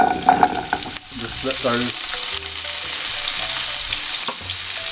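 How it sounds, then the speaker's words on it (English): Swedish meatballs frying in a hot pan, a loud, steady close sizzle with stirring clatter early on, under brief speech from a man. "So now I'm going to put these meatballs in."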